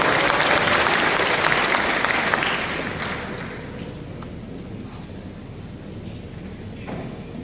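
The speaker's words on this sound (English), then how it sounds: "Shall we all give a round of applause?" An audience at a Phom student conference event gives a loud, sustained round of applause, dense and close at first, then fading to a softer patter after a few seconds.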